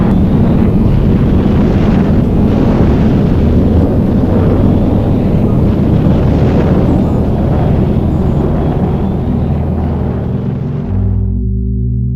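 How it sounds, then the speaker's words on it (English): A recording of a rocket launch liftoff plays as a loud, continuous, rumbling roar with a dense crackling texture that holds steady for about eleven seconds, then cuts off abruptly into a low hum. "Zero, all engine running. Liftoff, we have a liftoff."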